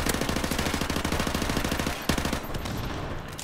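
Rapid automatic gunfire in Call of Duty 4: Modern Warfare multiplayer, a loud continuous stream of shots with a brief break, then more firing with a shifting tone.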